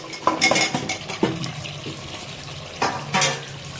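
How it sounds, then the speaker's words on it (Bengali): Raw potato pieces tipped into a pot of Bihari-style mutton curry, giving a few close clattering knocks against the metal pot with wet scraping and stirring between them. "এবার দিয়ে দিচ্ছি এই যে কাঁচা আলু।"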